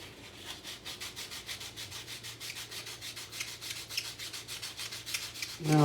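Wood is sanded by hand in quick, even back-and-forth strokes, a close rhythmic scratchy rasp repeating steadily for several seconds with no talk over it.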